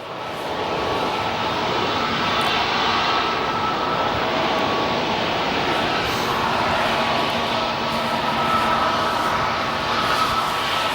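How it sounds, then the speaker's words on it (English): An Atlas Air Boeing 747 at O'Hare sends out a sustained, loud jet engine roar, a steady broadband rumble heard from a distance for the whole stretch, with no clear speech. "this Atlas Air 74, most likely to be our next departure here at O'Hare"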